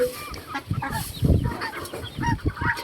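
Several chickens clucking nearby in short, irregular bursts, with turkeys and other fowl calls scattered in the background.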